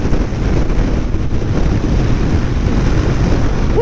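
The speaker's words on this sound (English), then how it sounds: "God, that wind is strong." Strong wind blasting outdoors on a warm autumn day, a steady loud roar and buffeting across the microphone with no break, and no voices.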